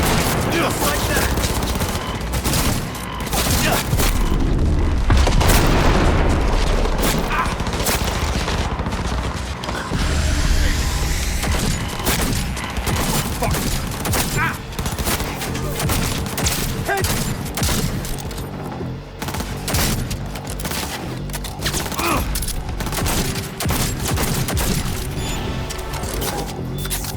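Sustained heavy gunfire from the Cyberpunk 2077 video game, dense overlapping bursts and booms filling the whole stretch at close, loud level, with occasional voices from the game mixed underneath.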